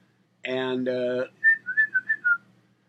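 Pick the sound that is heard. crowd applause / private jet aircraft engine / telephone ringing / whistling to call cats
whistling to call cats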